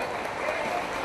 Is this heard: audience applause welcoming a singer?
yes